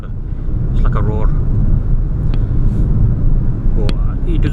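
A Peugeot 2008 Allure 1.2 PureTech 129 hp petrol engine gives a steady low roar and rumble while driving, loud and continuous, with someone talking over it.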